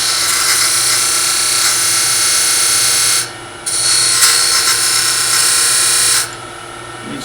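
Rotary tool fitted with a diamond point bit engraving decoration into a small wooden miniature box, a loud close high-pitched whine and gritty grinding that briefly drops twice before resuming.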